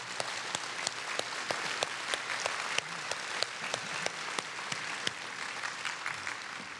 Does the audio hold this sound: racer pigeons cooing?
no